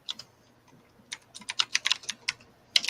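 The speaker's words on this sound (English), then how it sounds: "typing like crazy, typing away" Fast typing on a computer keyboard, with quick irregular bursts of sharp clicks that grow denser and louder partway through, heard alone with no talking.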